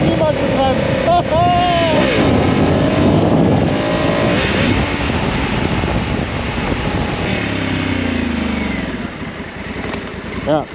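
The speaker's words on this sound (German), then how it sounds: "jetzt hätte ich lieber nicht so laut beschleunigt" Honda Africa Twin 2022 motorcycle engine roaring loudly as it accelerates up close, with a voice talking over it and the engine note tailing off near the end.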